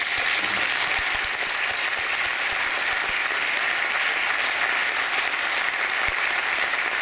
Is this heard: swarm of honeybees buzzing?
no